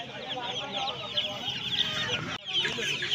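Chickens cluck in a dense, steady chorus at a busy poultry market in Uluberia, with a brief dip near the end before the noisy flock resumes close by.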